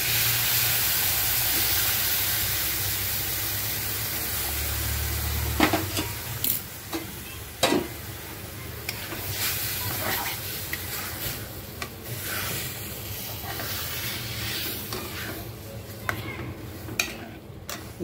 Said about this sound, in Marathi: आता ह्याच्यात मी दूध ओतते